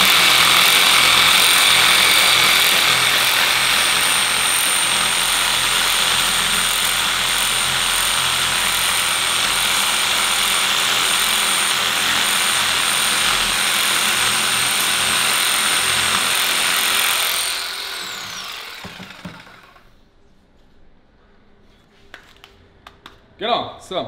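A jigsaw cuts through a floor panel with a loud, sustained buzzing saw noise for about eighteen seconds, then stops abruptly, leaving a few faint clatters and handling sounds.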